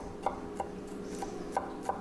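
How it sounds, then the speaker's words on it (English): Garlic cloves being chopped with a knife on a cutting board in a kitchen: five sharp, evenly spaced taps over a low, quiet background, with no voices. "I'm just going to chop them up so that they can simmer in the oil"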